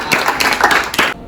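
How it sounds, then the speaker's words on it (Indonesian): Brief burst of clapping from a small class during a Catholic church lesson, a few uneven claps for about a second before cutting off abruptly. "Mantap, tepuk tangan"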